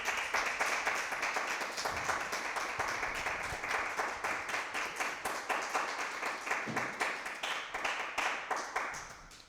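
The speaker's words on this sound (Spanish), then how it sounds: "Aplauso al Eterno." Rhythmic applause from a small religious gathering: clear, regular hand claps in a steady beat, close and fairly loud, continuing for several seconds before fading.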